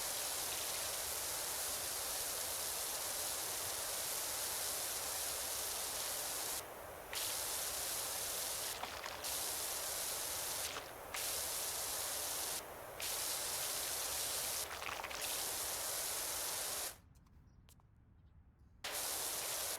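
Steady hiss of rain noise, continuous and even, with a few brief dips and a short quieter gap near the end.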